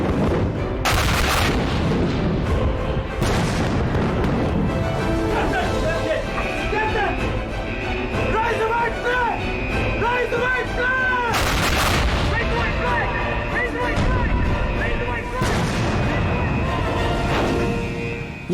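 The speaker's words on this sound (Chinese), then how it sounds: "左翼炮位，开火！" Repeated heavy booms of naval artillery cannon fire in a war drama, loud and close, come in several bursts over a dense battle din with shouted voices and music.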